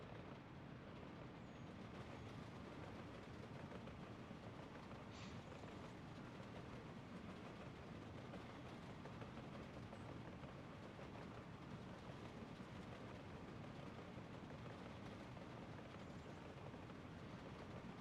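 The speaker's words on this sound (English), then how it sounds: "Enjoy a nice, scenic train ride across the beautiful countryside of Asmeria." Steady rolling rumble of a train running through countryside in the city-building game Workers & Resources, a continuous even drone with no talking.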